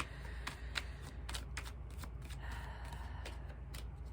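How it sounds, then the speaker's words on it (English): Tarot cards being shuffled close by make a quick run of crisp riffling taps and flicks, soft and busy, with no talking. "I got cards jumping out now. It's a serious shuffle."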